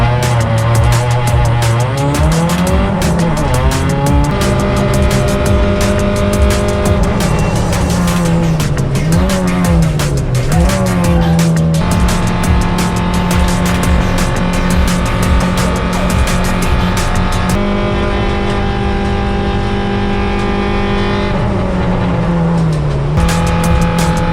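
A Hyundai Excel races around the wet Phillip Island circuit, its engine loud and close, rising and falling through gear changes and revs, with tyre noise throughout and no talking.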